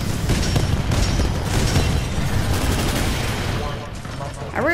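Titanfall 2 combat with a Titan firing tracker rockets: a dense, continuous barrage of loud booming blasts and rapid gunfire that hardly lets up for the whole stretch.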